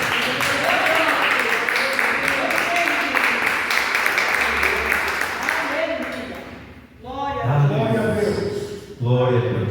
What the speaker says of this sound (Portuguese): dando uma linda salva de palmas para Jesus